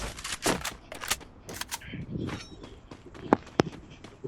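Gunfire in a battle royale video game: scattered single shots and short bursts crack out among footsteps and game effects, with two sharp shots standing out near the end.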